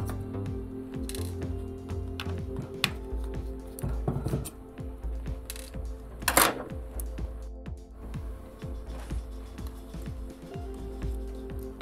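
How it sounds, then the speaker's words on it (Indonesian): A calibration bolt is turned on a camera body, producing a fast train of small, close mechanical clicks like a ratchet, with a few sharper knocks over a quiet background. "kita putar lagi bautnya"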